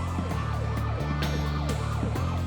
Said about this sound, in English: He would have been tipped off by the sirens.